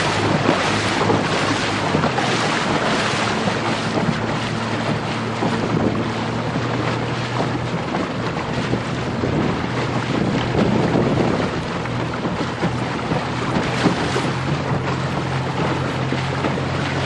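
A sailboat racing on a lake in gusty wind, with heavy wind buffeting the microphone and a constant rush of water against the hull, loud and unbroken with no talking.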